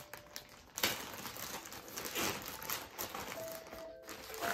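A clothing parcel order from H&M being opened, its plastic wrapping crinkling and rustling continuously at close range with a sharper tear early on.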